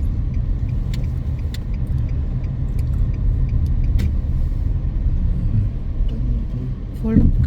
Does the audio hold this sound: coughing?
no